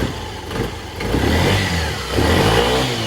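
A Sherco supermoto with a 77cc big-bore AM6 engine revs in rising surges, a buzzy two-stroke note swelling and dropping several times, fairly loud and close.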